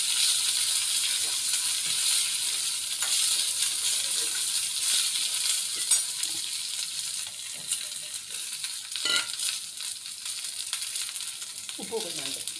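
Cluster beans sizzle and fry in oil tempered with mustard seeds, urad dal and curry leaves, a steady close crackling hiss with occasional stirring scrapes and a brief clatter near the end.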